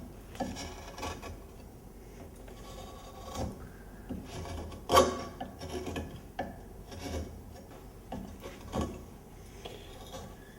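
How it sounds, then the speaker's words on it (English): Carving gouge shaving wood from a classical nylon-string guitar neck held in a vise, worked by hand; steady rasping scrapes and rubs with a few sharper strokes, close and moderately quiet, no talking. "with one of my carving gouges, I'll begin to carve"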